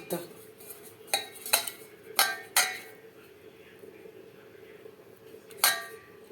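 Eggs mixed with salt and turmeric in a bowl, with several sharp clinks of a utensil against the bowl in irregular bursts, then quieter scraping between them, close and fairly clear.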